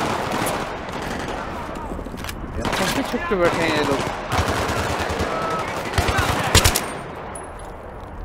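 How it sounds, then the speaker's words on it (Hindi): Bursts of automatic gunfire from Battlefield 3 crackle in rapid volleys and sharp single shots throughout, with someone talking over the shooting. "नवाज सब गोलियां चला रहा है"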